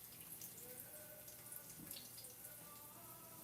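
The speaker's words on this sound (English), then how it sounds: "Now I'm just gonna take this and I'm gonna pour this water out, drain this" Water poured out of a cooking pot to drain it, a faint splashing trickle with light drips running steadily, quiet and close.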